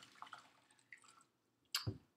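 About two cups of water going into a bowl for Jello shots. A few faint drips come first, then a short splashing pour near the end. The sound is quiet and close.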